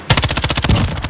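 Rapid automatic gunfire from a Warzone match, a loud close burst of about a dozen evenly spaced shots in quick succession.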